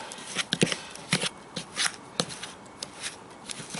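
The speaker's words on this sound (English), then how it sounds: "really vigorously mix the ground bait and the juice round together" Fishing ground bait is worked by hand with juice into a paste, giving close, irregular wet squelching and slapping bursts at an uneven rhythm, with no talking.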